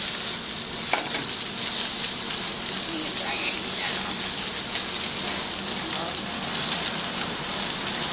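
Snapper and salmon fillets sear skin-side down in a hot pan, giving a loud, dense, unbroken sizzle like heavy rain, close up, with faint talk underneath.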